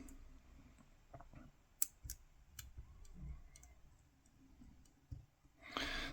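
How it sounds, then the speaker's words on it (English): Quiet, scattered little clicks from serrated dimple picks tapping the pins inside a large Mul-T-Lock C16 padlock, faint and irregular, close up with a soft breath near the end. "Yeah, because they're serrated, you just get lots of little clicks."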